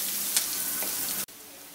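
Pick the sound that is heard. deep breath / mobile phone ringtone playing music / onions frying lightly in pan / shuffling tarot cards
onions frying lightly in pan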